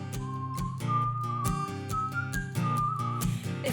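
A bright, melodic whistle runs over cheerful music in a children's space-themed cartoon, rising and falling in short phrases at moderate loudness.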